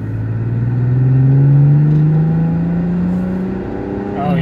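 A Mercedes-Benz E320 W210 V6 with a cat delete and a Flowmaster muffler accelerates on the road, its exhaust note a deep, steady drone that rises in pitch as the revs climb, heard up close from inside the car.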